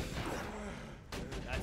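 Axton's deployed turret in Borderlands 2 firing short, faint bursts of gunfire, with a voice talking over the shots.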